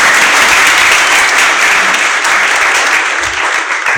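Applause for a boy in a church service on Easter day, a dense sustained clapping from the congregation that fills the whole stretch without a break.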